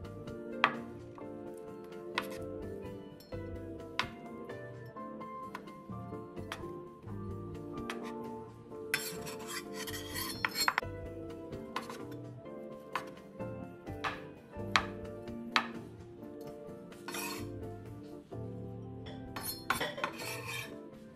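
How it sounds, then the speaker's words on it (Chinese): Knife cutting two slices of five-spice tofu into small cubes, giving faint, irregular taps and clicks on a cutting board over a quiet hum. "这牌子的五香豆腐2片，先对半切开，再切成丁。"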